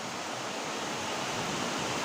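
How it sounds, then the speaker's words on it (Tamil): Heavy rain and strong wind in Erode, heard as a dense, steady hiss of downpour with gusty rushing air, loud and unbroken throughout with no voices. "ஈரோட்லிங்க இன்னைக்கு மழை வேறுங்க எந்த அளவுக்கு பெஞ்சிட்டு இருக்குது."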